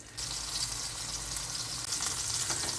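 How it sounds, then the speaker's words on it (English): A beef roast sears in a hot pan with a loud, close, crackling sizzle that starts abruptly and then holds steady, swelling slightly toward the end. "you want to sear it for 3 minutes on each side"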